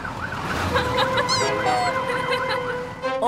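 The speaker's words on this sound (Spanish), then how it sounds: "No oyen la sirena de Fiona por sobre sus motores." A fire truck's wailing siren rises and falls over a rumbling engine, with a brief honking tone partway through.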